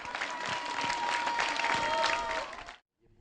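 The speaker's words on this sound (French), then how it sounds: "c'est sous les applaudissements que les élèves ont planté un arbre" Schoolchildren applaud in a schoolyard as a tree is planted, a dense and lively burst of clapping that lasts nearly three seconds and then cuts off abruptly into near silence.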